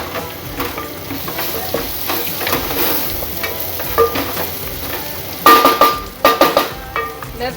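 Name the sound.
garlic frying and sizzling in a pan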